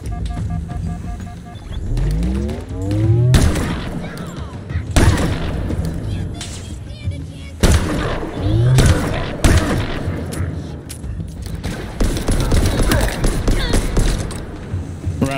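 Heavy gunfire and booming explosions from the Halo Infinite campaign crack repeatedly over a dense, loud battle soundscape, with bursts and thuds recurring throughout and brief game voices in between.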